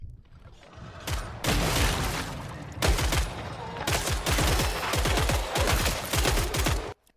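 Rapid bursts of gunfire from Killing Floor 3, loud automatic volleys with mechanical clatter, repeated in several sustained strings with brief gaps, no talk.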